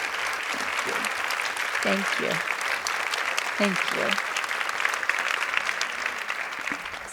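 Dense, sustained audience applause at a fireside chat with a guest, a steady crowd clapping throughout while a nearby voice speaks briefly over it.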